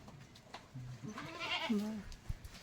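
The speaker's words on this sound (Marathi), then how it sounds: "एकदम भारी शेळी आहे." A goat on a goat farm lets out a single wavering bleat at close range, fairly soft against a quiet background.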